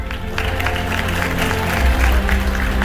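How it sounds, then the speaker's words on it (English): Sustained applause from an awards ceremony audience as an honoree comes up to the stage, a dense steady wash of clapping that swells slightly toward the end. "Round of applause as he comes up."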